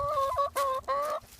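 An old backyard hen clucks in three close, loud, drawn-out vocal bursts, each one a steady tonal call with short gaps between them, and no voices over it.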